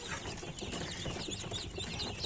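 A flock of Wyandotte chickens clucking and chattering continuously, with overlapping calls filling a busy, close-up coop.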